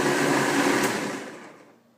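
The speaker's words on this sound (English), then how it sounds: "I'll turn on the blender, give it a quick blend here" A blender whirring through yogurt, a loud steady motor roar up close that winds down and fades toward the end.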